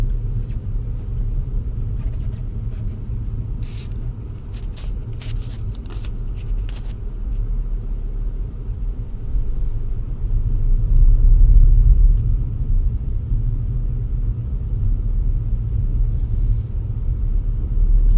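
A car approaching on a narrow road toward Himachal, heard from inside a Brezza as a steady low engine and road rumble that swells midway, with faint ticking clicks early on.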